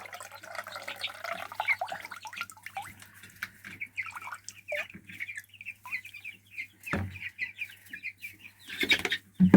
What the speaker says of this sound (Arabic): شايفين الفراخ هتتهبل